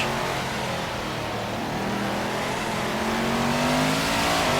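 A race car engine in the video game Assetto Corsa roars continuously, its pitch rising as it revs and accelerates, loud and close throughout.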